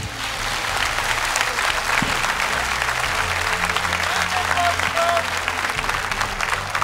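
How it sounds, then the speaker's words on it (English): Sustained audience applause fills a StarCraft II tournament venue, dense and steady throughout, with a commentator speaking faintly beneath the clapping. "Wielkie brawa, jeszcze raz dla Nerchia."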